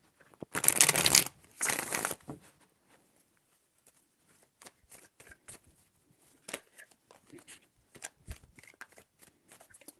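Tarot cards are shuffled in two brisk riffling bursts close by, followed by scattered light taps and card handling sounds in a quiet room.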